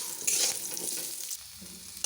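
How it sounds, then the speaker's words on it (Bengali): Moringa drumstick pieces fry in hot oil for a Bengali shukto, giving a busy crackling sizzle that fades slightly toward the end. "এরপর সজনে ডাঁটাটা ভেজে নেব।"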